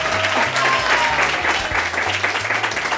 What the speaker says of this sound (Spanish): Un aplauso para Leia.